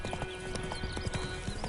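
Hooves of Roach, a horse galloping in The Witcher 3: Wild Hunt on PS5, pound in a quick, steady clip-clop rhythm, close and moderately loud, with a faint whinny mixed in.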